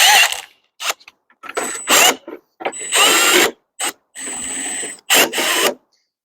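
A power drill loosening a steel clamp whirs in a series of short, close bursts, stopping and starting repeatedly with brief silences between them.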